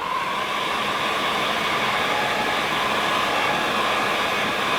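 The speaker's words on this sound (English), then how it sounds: "Then you can get a heat gun." A heat gun set to full blast roars steadily as it blows hot air on a plastic car part, a constant loud whooshing rush with no breaks and no talking.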